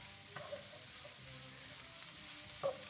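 Ground meat for a Bolognese sauce frying in a pan, a soft, steady sizzle with a couple of brief stirring clatters, fairly quiet and close, no voices.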